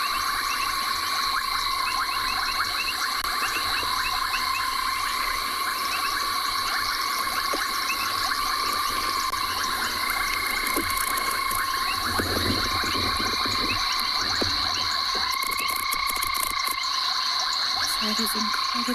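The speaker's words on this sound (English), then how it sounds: "we have got a whole lot of different species of frog calling" Dense chorus of many frog species calling at a pan in South Africa during an afternoon safari: overlapping continuous trills and pulsing croaks, loud and unbroken throughout, with faint background voices.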